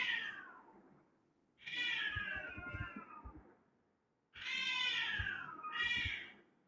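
Cats fight and caterwaul behind a house, loud drawn-out yowling wails in two long bursts separated by a brief lull, with scuffling thumps underneath and no speech.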